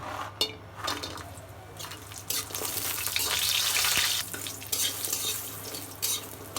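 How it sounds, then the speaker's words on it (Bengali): Pumpkin lentil dumplings (kumro bori) frying in oil in a kadai, a hiss and crackle that swells and fades with stirring scrapes and a few sharp clicks, close by and moderately loud. "মাছ ভাজার আগে বড়ি ভেজে নেব আমি"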